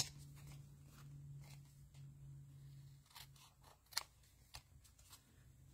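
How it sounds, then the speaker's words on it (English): Teflon-coated scissors cutting through adhesive paper for card making, several crisp snips and clicks, the sharpest one near the middle, over a faint low hum, close and quiet with no talking. "Let me use these Teflon scissors since I'm going to be cutting right through that."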